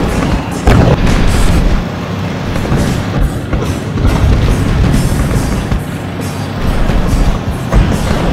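Artillery fire in a Kazakh animated cartoon, heard as loud, dense, rumbling booms that run together in a continuous barrage, with sharper blasts standing out near the start and end.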